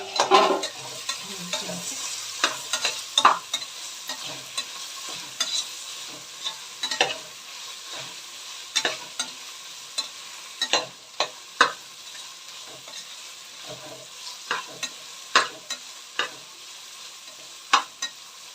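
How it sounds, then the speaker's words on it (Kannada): Tomatoes and chilies fry in a pan with a soft, continuous sizzle, while a spoon stirs and scrapes with repeated sharp clinks throughout, close and fairly quiet. "ಮೆಣಸಿನಕಾಯಿ ಆಗ ನಾನು ಟೊಮೊಟೊ ಕೂಡ ಹಾಕಿದೆ"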